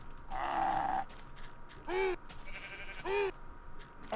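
Sheep bleating in the video game Minecraft: one long, loud wavering bleat, then two shorter bleat-like calls a second apart, each standing out clearly over a low background hum.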